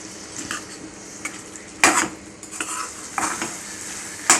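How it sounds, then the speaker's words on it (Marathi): Cowpea bhaji being stirred and sautéed in a pan, a spoon scraping and clinking against the metal in several irregular close strokes over a soft background sizzle, with no talking. "चांगलं परतवून झालं"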